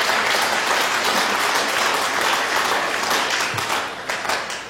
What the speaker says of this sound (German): Yes, das ist ein Applaus wert.